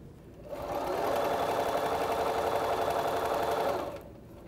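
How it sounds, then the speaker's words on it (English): A sewing machine joins quilt block pieces in a single steady burst of stitching lasting a few seconds, its rapid, even whir close and clear with no talking. "now I can sew them together"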